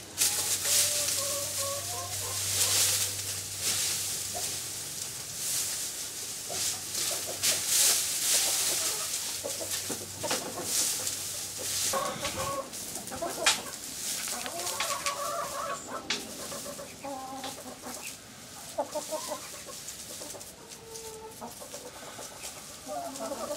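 Chickens cluck in a barnyard during a wheat threshing job, with straw being tossed to them; the clucking runs throughout, moderately close, over a steady low hum and scattered bumps and rustling.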